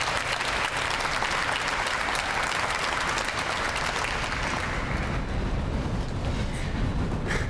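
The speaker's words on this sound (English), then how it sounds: "Thank you for the applause." Sustained applause from an audience at an overdose awareness event, dense and steady clapping that fills the space before tapering slightly toward the end.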